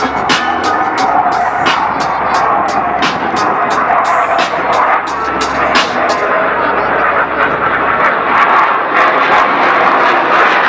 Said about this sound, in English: Tejas is so slow at a speed of only 120 knots that even the winds stop to stare.